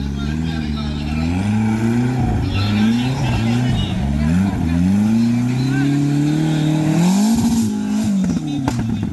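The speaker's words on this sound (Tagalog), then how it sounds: "Grabe yung makina nito" A loud 4x4 race vehicle engine revs up and down repeatedly nearby at an off-road challenge, its pitch rising and falling in waves, with voices talking over it.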